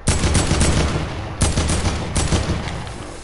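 Gunfire in a PS4 video game: three loud bursts of shots, each opening with a sharp crack and trailing off into rumbling echo, set against a dense constant game-sound bed.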